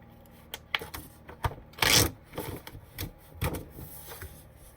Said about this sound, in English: tear a sheet out